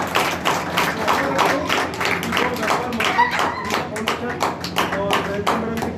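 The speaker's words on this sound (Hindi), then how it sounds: "जोरदार तालियां एक बार सब लोग।" An audience at a local centre event claps hard in a run of sharp, distinct hand strikes, loud and close, with a voice speaking over the clapping throughout.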